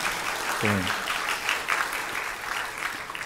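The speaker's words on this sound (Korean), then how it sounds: "사랑과 따뜻한 박수로 환영해 주시기를 바랍니다" Congregation applauding warmly at a church Sunday service to welcome visiting elders, steady clapping throughout with a brief voice near the start.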